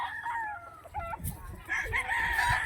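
A young bull stag rooster crows nearby, letting out a strained, wavering call with a few clucks mixed in against faint farmyard background noise.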